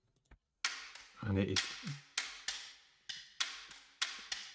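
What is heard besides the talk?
clicky high percussion loop in a TV/film music cue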